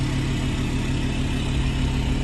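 A cold diesel car engine idles steadily at low revs, a continuous even rumble with no revving, close and unbroken throughout.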